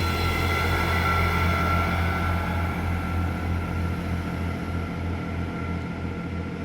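A train running, heard as a steady loud rumble with a strong low hum and faint rhythmic clatter, continuous and without voices.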